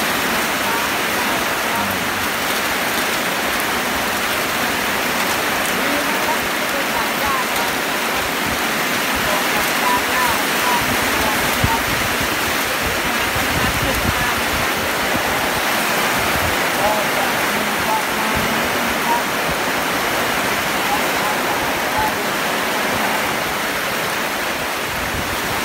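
Heavy rain falls at night in a steady, unbroken hiss of dense drops, close and loud, holding an even roar throughout with no letup.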